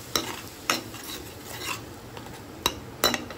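A spoon scrapes and clacks against a pan as water is stirred into spices, a few sharp strikes standing out over a soft sizzle, close and fairly loud with no talk.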